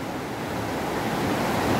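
Water rushes beneath a rock on a mountainside, a steady broadband hiss like a torrent, moderately loud and continuous, with no voices.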